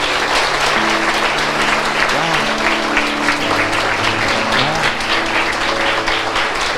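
A congregation at a Portuguese-language church service claps steadily and loudly for several seconds, with sustained low musical tones underneath the dense applause.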